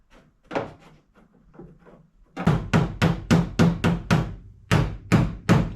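Sharp metallic taps of a hammer along a seam on a car body panel while fitting a custom fuel door, a few light scattered hits, then a steady run of evenly spaced strikes, close by.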